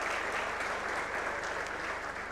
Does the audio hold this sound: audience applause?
yes